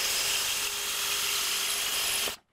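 A power drill fitted with a 1.5-inch hole saw grinds steadily through wood, loud and close, then stops abruptly near the end.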